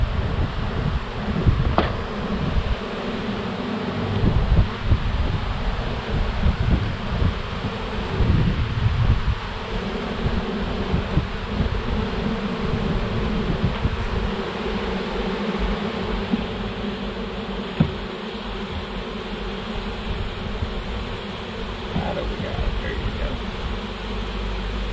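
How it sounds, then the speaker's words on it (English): Honeybees hum steadily in and around an open hive box during installation of a purchased swarm, a dense continuous buzz close by with light wind and occasional handling rustles. "we want to gently get our bees out of the way so we can install the rest of the frames here without smashing anybody"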